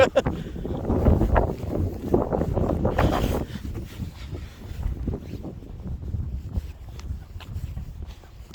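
Gusty wind at Painted Canyon Overlook in Theodore Roosevelt National Park buffets the microphone with a low, rumbling roar that is strongest at first and then settles into a steadier rush.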